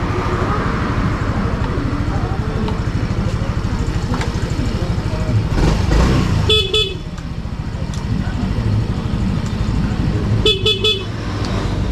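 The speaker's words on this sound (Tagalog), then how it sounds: "Pansin nyo guys, lumakas yung busina niya." A Yamaha Mio Gear scooter's horn, just fitted with a new battery, gives two loud honks over the idling engine, with people talking nearby.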